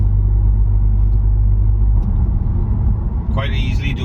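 An Audi S1 Quattro hum and rumble from inside the cabin while cruising at about 45 mph, with a steady low drone that shifts in tone partway through as someone talks over it.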